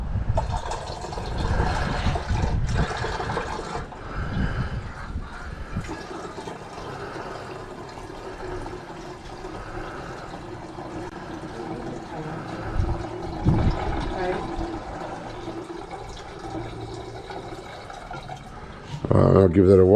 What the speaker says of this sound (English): So I'll pour this off.